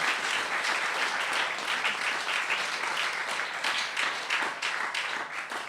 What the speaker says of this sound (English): Can we give Rebecca a great big clap and thank you